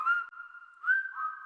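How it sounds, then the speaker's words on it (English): A person whistles a bright, steady melodic tune in a junk-removal radio advert, sustained notes sliding up and down, clear and close with no background noise. "We'll even whistle while we work."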